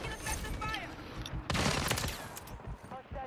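Shooter video game gunfire from a Bas-B battle rifle fight, a dense burst of rapid shots that peaks near the middle of the clip, with a voice talking underneath.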